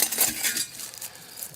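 Camping cookware set being handled: plastic bowls, a small scoop, a spatula and utensils clinking and rattling together close up in a short, busy burst of light knocks and scrapes that tapers off, with no talking.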